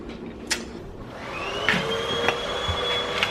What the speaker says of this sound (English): running the vacuum cleaner